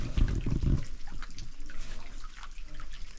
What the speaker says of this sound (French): L'eau qui sort des rochers.